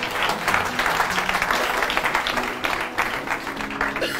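Audience applause for a man named Claudel fills a hall, a dense, steady wash of many hands clapping at close-to-moderate distance, sustained for several seconds with slight dips.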